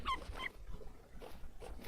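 A pup in the video game Vintage Story gives a couple of short, high whimpers, then quieter whines over a low, steady game ambience.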